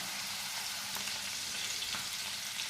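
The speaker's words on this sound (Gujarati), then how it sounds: "ધીરા ગેસ પર અને ધીરી આંચે આપણે શેકવાના છે 5 મિનિટ." Mutton tikka pieces searing in a pan on a low flame, a steady dense sizzle with a couple of faint stirring clicks, close and continuous, with no talking.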